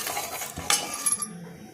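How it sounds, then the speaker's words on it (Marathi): A ghee-coated spoon stirring sugar syrup in a metal pan, giving a few light metallic clinks and scrapes, close and fairly soft, with no talking. "आता हे तुपाचा चमचा पाक हलवायला घेते"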